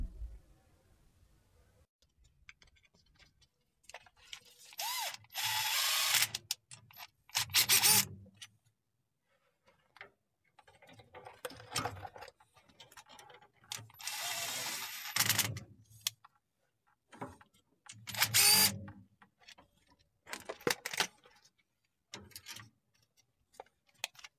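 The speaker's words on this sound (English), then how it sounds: "What I'm going to do is I'm going to go around and check them with a ratchet by hand." A hand ratchet clicks in quick bursts while checking the bolts on the differential cover of a 2008 Duramax LMM truck. The clicking is close and repeats several times with short pauses between the bursts.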